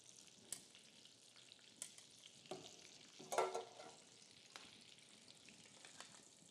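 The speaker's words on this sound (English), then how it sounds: "You can hear that sizzle, so they are starting to sear a little bit." Hasselback potatoes, topped with salt and pepper, sear in a hot pan with a soft, steady sizzle and scattered faint pops, close and quiet with no talking.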